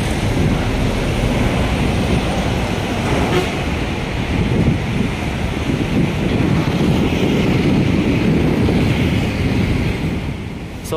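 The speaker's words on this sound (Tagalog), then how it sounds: "malakas yung alon, malakas yung ihip ng hangin" Strong wind from Typhoon Kristine roars steadily against the microphone while waves crash and surge continuously along the shore of Manila Bay.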